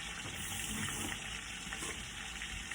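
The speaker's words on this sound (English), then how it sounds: "Let me rinse this off." Tap water runs steadily over a spatula being rinsed at a kitchen sink, a continuous close splashing hiss with no pauses.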